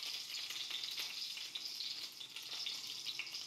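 Spices tempering in hot oil for a Hyderabadi mutton dalcha, a steady close sizzle and crackle with faint stirring and no talk.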